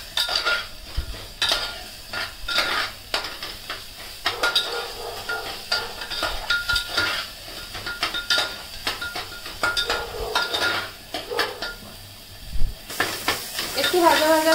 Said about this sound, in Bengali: এবার একটু পনির দিয়ে সব মশলা দিয়ে ফ্রাই করে নেব